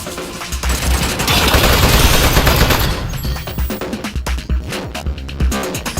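Rapid automatic turret gunfire in the video game Aperture Desk Job, a loud dense burst of shots that trails off into scattered firing and mechanical clatter, with no talking over it.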